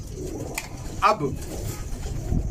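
Domestic pigeons kept and raised by a bird keeper coo softly in short throaty calls, while someone speaks briefly nearby.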